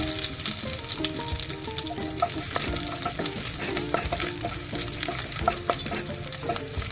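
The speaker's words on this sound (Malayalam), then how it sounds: "വെളുത്തുള്ളിൻ്റെ വാസന വരുന്നവരെ ഇളക്കുക" Garlic frying in a pan while being stirred, a continuous crackling sizzle dotted with quick spatula scrapes and taps, no speech.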